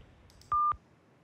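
One short, clean telephone keypad tone sounds on its own while an outgoing call is placed through a DINSTAR IP PBX.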